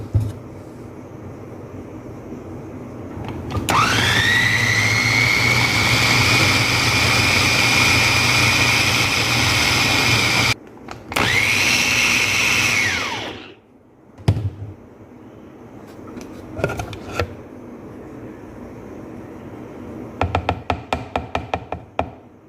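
A blender whirs at steady high speed for several seconds while mixing a dessert of dates and condensed milk, stops briefly, runs again and winds down, followed by clinks and knocks of handling.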